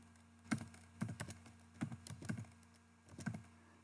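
A date is typed into an Excel spreadsheet on a computer keyboard: quiet, close keystrokes come in short irregular bursts with small pauses between them.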